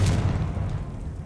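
A Confringo spell explosion in Hogwarts Legacy lands as a single loud, deep boom that rolls and fades over about a second, with no talk.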